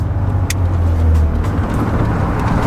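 A 1987 Nissan 300ZX with a V6 engine hums low and steady as it slows into a gas station, its engine note rumbling close throughout the short stretch.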